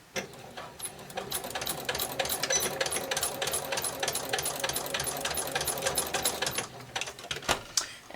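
A sewing machine stitches the ends of an elastic waistband together for underpants. It runs as a close, rapid, steady needle chatter for several seconds, then slows into a few separate stitches at the end.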